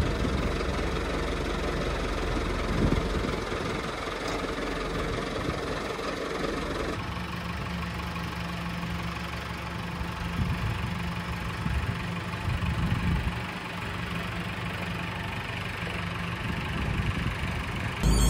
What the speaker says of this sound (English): I'm back in the cockpit of my favourite tractor, the 3075.